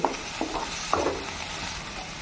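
Gobi manchurian cauliflower fries in a pan with a steady close sizzle, broken by a few light scrapes and taps as it is stirred, and no talk.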